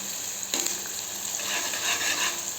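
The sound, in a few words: food frying in oil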